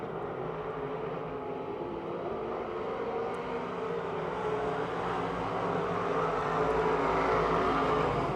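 Dirt-track race cars roar around Pennsylvania Motor Speedway near Pittsburgh, a steady loud engine drone from the pack that builds slightly toward the end.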